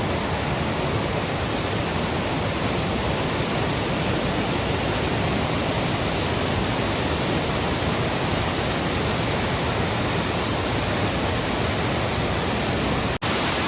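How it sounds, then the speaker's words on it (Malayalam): A mountain waterfall pours down in a steady, dense roar that stays constant and loud throughout, with no voices, ending in a faint click. "വളരെ മനോഹരമായൊരു വെള്ളച്ചാട്ടം."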